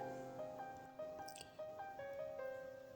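Rice paste, mixed with ground chili and a little salt, poured onto an oiled flat griddle, giving soft wet drips and squishy splats at a low level over faint background tones, with no talking.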